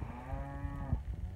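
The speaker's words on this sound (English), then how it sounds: "He's trying to sort that cow out." A cow on a farm gives a single clear, fairly close moo lasting about a second, with no talk over it.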